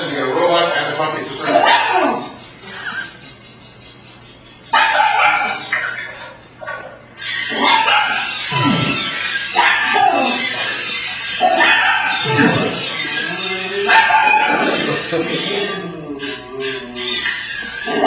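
A puppy yaps, whimpers and barks in short bursts at a small walking robot, close and fairly loud, with people chuckling and talking over much of it.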